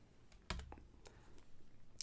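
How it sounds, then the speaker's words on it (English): A single sharp key press on a computer keyboard, the tab key hit while coding in Python, lands as one crisp click amid quiet room noise, with a faint second tap near the end. "if we hit tab on our keyboard"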